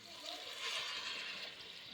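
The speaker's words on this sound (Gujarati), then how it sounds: "હવે એમાં પાણી એડ કરવાનું છે" Water pours steadily into a pot of tempered khichdi with pigeon peas, a soft continuous splashing and trickling at close range, with no talk over it.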